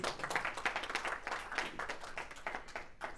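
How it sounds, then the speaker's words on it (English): A small audience gives a round of applause at a Toastmasters club meeting, with quick, fairly faint clapping that stays steady throughout. "Big round of applause for him, please."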